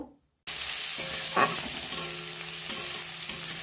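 Onion hits a hot pan for a chicken patty filling, bursting from silence into a strong, continuous sizzle with occasional stirring scrapes and clinks.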